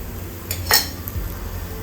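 A spoon scrapes and clinks against a pan while sheera is stirred with cardamom powder. It makes a couple of sharp metallic knocks, then a quiet stretch with no talking.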